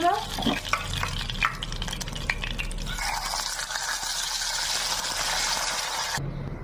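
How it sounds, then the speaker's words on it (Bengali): Tilapia pieces frying in hot oil make a steady crackling sizzle with a few clinks of stirring near the start. The sizzle swells toward the end and then cuts off sharply. "বাকি মাছগুলো ভেজে নেবো।"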